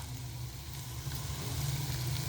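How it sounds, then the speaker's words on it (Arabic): Steady close sizzling of garlic frying in a hot pan, a continuous crackling hiss over a low hum, with no voices. "بحمرها اهي عشان بقى نعمل الصلصه"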